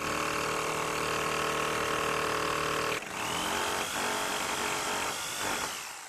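A power drill bores fixing holes into a wall to mount the bracket of a spotlight rail, a loud whining motor run that cuts off abruptly and then resumes in a lower, uneven grinding burst.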